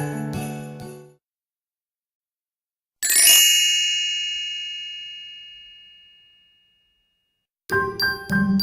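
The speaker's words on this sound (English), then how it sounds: "church bells rang through the cold, wintry valley" Bright bell tones ring out in separate strikes, each leaving a long shimmering decay into silence, with a cluster of chimes at the end.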